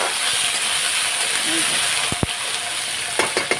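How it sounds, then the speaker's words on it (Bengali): Potatoes frying in hot oil in a kadai give a steady, close hiss and sizzle throughout, with a few sharp clinks or stirring knocks near the end and some faint voice in the background. "কটাই আলু দিয়ে দিলাম আলুটা এখন লাল লাল করে একটু ভেজে নেব"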